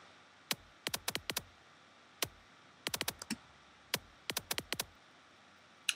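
Sharp, clicky percussive hits from kick drums with the bass removed, no low end, arriving in irregular clusters of quick stutters separated by short gaps.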